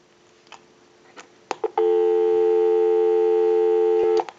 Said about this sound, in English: So we'll go ahead and give you some dial tone.